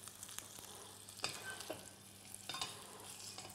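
Roast searing in a hot pan, a steady close sizzle with a few sharper spatters and stirring scrapes, fairly quiet.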